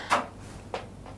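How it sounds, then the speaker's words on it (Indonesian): A door is rattled twice, each a brief clack from a handle or latch, moderately close in a quiet room with a low hum underneath. "Pintu kayak dicekrek kan, kupikir terbuka."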